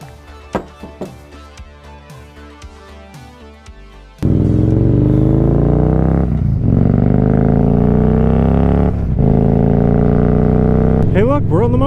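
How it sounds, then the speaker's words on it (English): A motorcycle ride heard from a rider in a Schuberth C3 Pro modular helmet: scattered knocks give way to a loud, sustained engine drone with gear changes and rising revs, mixed with wind. "Hey look, we're on the motorcycle."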